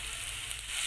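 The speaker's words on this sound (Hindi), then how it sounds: "अभी मसाले अच्छी तरह से पकने तक इसे हम भून लेंगे।" Brief, faint, steady sizzle of spices and garam masala frying in oil in a pan for egg masala, with no talk.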